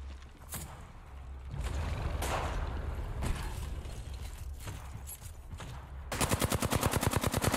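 Video game gunfire crackles in continuous bursts under a steady loud bed of game noise, ending in a rapid, evenly spaced run of sharp shots from an automatic weapon.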